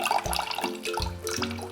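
Hot water that has soaked about twenty dried figs is poured into a cooking pot, giving a few short splashing gushes with brief pauses between them.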